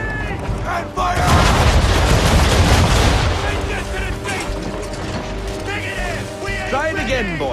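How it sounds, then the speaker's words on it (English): Ship cannons firing a broadside in Assassin's Creed 3, a dense roaring volley of booms and crackling blasts that peaks then fades into creaking and distant shouts. "Now, aim all guns at her bow and do as much damage as possible. Make ready! And fire!"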